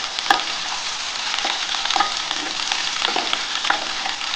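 Potatoes and ridge gourd frying together in a pan, a loud continuous close sizzle with light spatula scrapes and taps recurring every half second or so; no talk.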